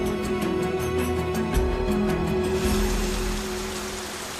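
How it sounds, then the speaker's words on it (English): Rain falls in Nyungwe cloud forest in Rwanda, a loud steady wash of drops, with a faint rhythmic tapping at first that fades into a smooth continuous hiss. "Nyungwe is a cloud forest. It rains here virtually every day."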